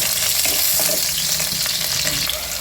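Onions fry in oil and ghee with biryani spices for a spinach biryani, giving a loud, continuous close sizzle with faint stirring scrapes throughout and no talking.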